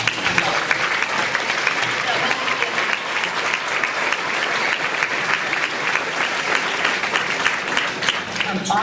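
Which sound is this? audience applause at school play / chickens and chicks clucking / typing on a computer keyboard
audience applause at school play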